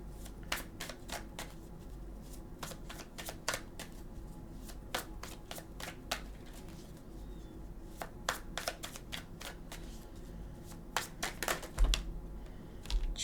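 Tarot cards being shuffled and drawn, a run of crisp riffling snaps and soft slaps with a few louder flicks near the end, close up with no talking.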